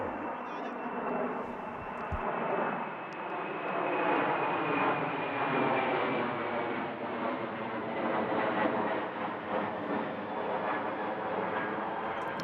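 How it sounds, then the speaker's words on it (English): A low-flying plane near Helsinki-Vantaa Airport roars steadily overhead during a T10 cricket match in Finland, with a broad, sustained engine rumble and a slowly falling whine over about twelve seconds. "it feels like the planes are getting lower and lower as we go throughout the week here"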